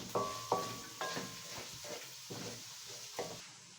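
Macaroni being stirred in a pan with a spoon, a few sharp scrapes and clinks against the metal at the start, then softer irregular stirring strokes with a faint sizzle underneath, close and fairly quiet.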